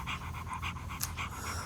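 Quick, rhythmic mouth breathing during a pranayama breathing exercise, about a dozen even panting breaths in steady succession, close and clear with no talking.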